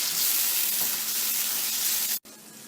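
Onions frying in a hot pan with garlic and ginger, for a white chicken korma, give a dense, steady sizzle and hiss up close, broken by a brief cut near the end before the sizzle resumes.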